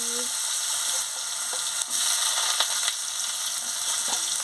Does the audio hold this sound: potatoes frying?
yes